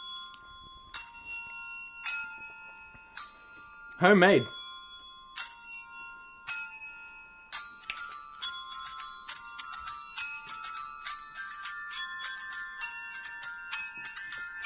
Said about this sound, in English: Proper bell jingling.